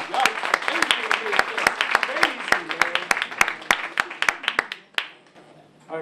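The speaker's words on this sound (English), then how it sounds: "give yourselves a round of applause" Scattered hand claps ring out from a small audience at an open mic night, sharp and fairly close with an uneven rhythm, thinning out and stopping near the end before a faint clap resumes; cheers and voices mix in.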